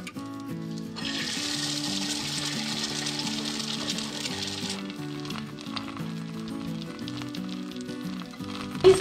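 Stuffed bread sizzles and fries in a pan, a steady loud crackle running the whole time with music playing underneath and a brief knock near the end.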